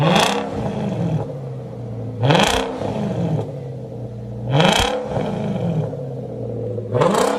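An Infiniti M45 engine revs hard four times in a steady rhythm, each blast rising to a roar and dropping back to a rumbling idle, loud and close, reaching 109 decibels.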